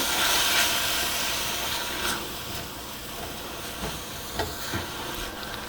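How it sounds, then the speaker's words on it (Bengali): Grated ridge gourd dropped into a hot pan with green chillies, a loud sizzling hiss that settles into steady frying, broken by a few sharp scrapes and taps of a spoon. "এখন এর মধ্যে দিয়ে দিচ্ছি আমি সেই ঝিঙে যে ঝিঙেটাকে গ্রেট করে রেখেছিলাম সেটাকে"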